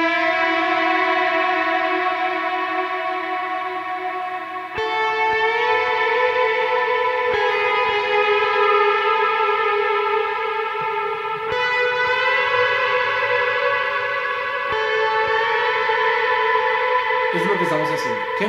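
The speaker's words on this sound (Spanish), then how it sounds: "Aquí simplemente cambio a un overdrive nomás y la reverb al 100." An electric guitar plays sustained slide notes through overdrive with reverb at full, long gliding tones that ring out and blend into a dense, echoing wash.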